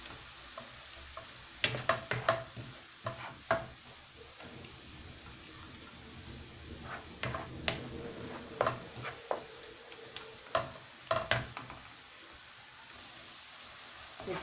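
Onion and tomato frying in a pan, with a soft sizzle underneath and scattered stirring scrapes and clicks of a utensil against the pan, fairly faint overall.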